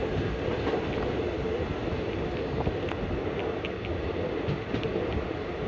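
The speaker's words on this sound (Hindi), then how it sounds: "अब अपनी ट्रेन यहाँ पे इसको ओवरटेक मार रही है" The Sabri Express passenger train runs on rails between Trivandrum and Kollam, a close, steady rumble of wheels with faint rhythmic clicks over the track joints throughout.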